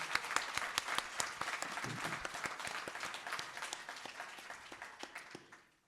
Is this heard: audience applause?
yes